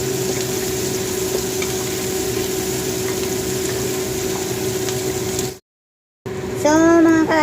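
String beans (sitaw) fry in a pan with pumpkin for Filipino adobong sitaw, giving a steady, loud sizzle that runs without break for several seconds. After a short gap, a louder clatter of stirring follows.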